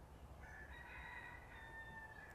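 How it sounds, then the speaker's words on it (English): Roosters crow from a distance beside a home garden, one long drawn-out call rising and stretching over a quiet, faint background with no voices. "Can you guys hear the roosters?"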